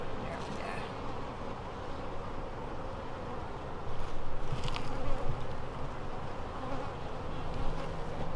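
Honeybees buzzing around an open beehive during an inspection, a dense continuous drone that swells midway, heard close and steady.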